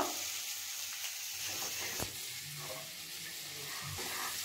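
Sweet pulis sizzle and fry steadily in hot oil over a medium flame, a continuous close crackling hiss with a few soft stirring knocks and no voices.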